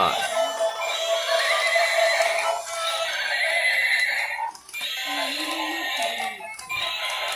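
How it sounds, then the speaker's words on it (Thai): A battery-powered toy pony plays electronic neighing and whinnying sounds, two repeated tinny bursts close by, with a little talk around them. "ม้าโพนี่"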